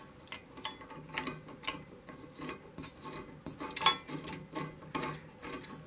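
A brass regulator is screwed onto the hose of a gas soldering iron, giving quiet, repeated metallic ratcheting clicks and scrapes in an uneven rhythm, close by with no talk.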